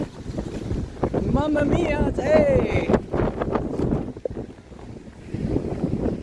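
Heavy wind buffets the microphone on a rainy, windy day at Niagara Falls, with a constant roaring rush and a rumble of water, while people talk and exclaim over it.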